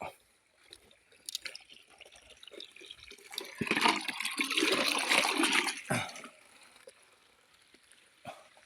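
Water runs and splashes while tomato plants are watered in a garden. It swells into a louder rushing stretch midway, then falls back to faint trickles and drips. There is no talking.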